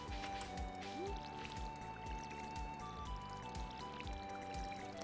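Watering crops with a watering can in the farming game Stardew Valley produces repeated soft splashing and dripping sound effects over light background music, at a low level.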